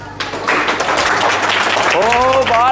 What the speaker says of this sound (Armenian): տեսեք ինչ ծափեր են